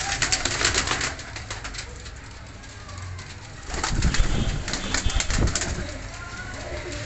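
Pigeons kept for sale in Faisalabad coo repeatedly while wings flap in bursts, fairly close, with faint low voices and background noise around them.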